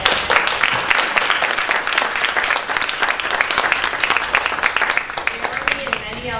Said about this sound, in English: applause for these 2